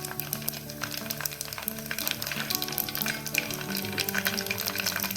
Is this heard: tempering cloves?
yes